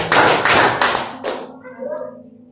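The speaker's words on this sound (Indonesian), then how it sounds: "Tepuk tangan" Hand clapping in a classroom exercise: about four sharp, loud claps in steady rhythm, then a pause with a faint voice following.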